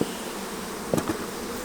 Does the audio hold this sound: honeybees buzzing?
yes